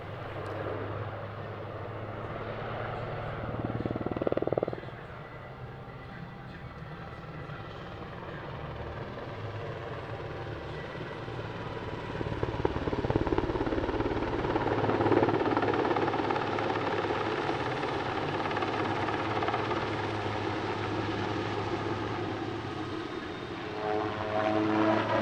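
A twin-turboshaft Super Puma helicopter climbing away at an airshow, with a steady rotor and turbine roar that rises and holds as it departs, broad and moderately loud throughout.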